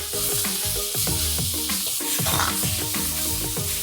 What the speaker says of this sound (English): Now fry it further till it becomes golden.